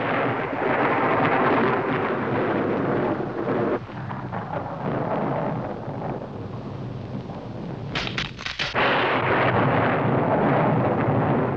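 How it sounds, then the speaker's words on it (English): Thunder made by a weather machine, a long, deep, continuous rumble that stays loud throughout, with a brief crackling burst near the end and no voices. "We know how to make lightning and thunder."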